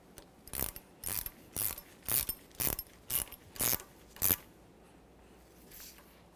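Ratchet tightening the upper shock absorber mounting nut on a 1994-1997 Honda Accord, about eight sharp rhythmic clicking bursts in quick succession, close and alone, then quiet.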